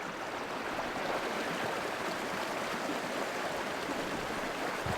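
Creek water flows steadily at a Rocky Mountain camp, a continuous broadband rush and trickle, close and even, with no voices.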